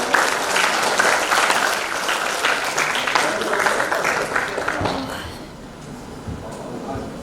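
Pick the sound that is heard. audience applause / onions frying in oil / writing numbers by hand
audience applause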